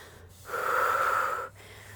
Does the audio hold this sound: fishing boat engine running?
no